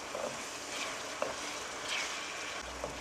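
Food sautéing in a pan while cooking squid adobo, a soft steady sizzle with occasional stirring scrapes and light clicks, quiet and continuous with no talk.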